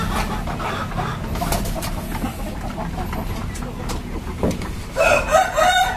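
Village chickens and roosters, nearly thirty birds in a backyard coop, cluck and stir close by, with a rooster crowing and louder squawks near the end; a person talks over the flock.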